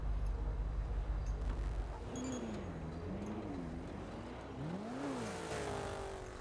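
A car engine in the NoPixel GTA roleplay game hums steadily, then revs up and down in several wavering swells. It plays alone and fairly loud.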